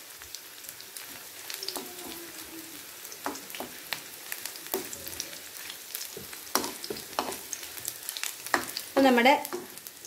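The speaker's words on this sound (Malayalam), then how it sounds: "ചട്നിക്ക് ആവശ്യമായ കടു വറുത്തതിൻ്റെ കൂട്ട് ഇവിടെ നന്നായിട്ട് റെഡി ആയിട്ട് വന്നിട്ടുണ്ട്." Mustard seeds fry in hot oil for a chutney tempering, crackling and popping in scattered bursts with stirring. A voice briefly speaks over the sizzle.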